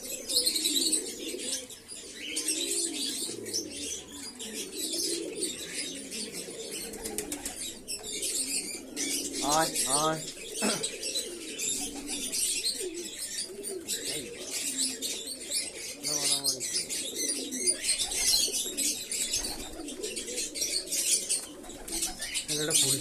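Pigeons at feeding time coo and flap their wings close by in a continuous busy chorus, while a man calls out to them a few times.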